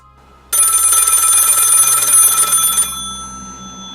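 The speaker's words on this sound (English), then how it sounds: "the phone rings" A loud, bright electronic telephone bell rings continuously for about two and a half seconds, then cuts off abruptly, leaving a faint fading tone.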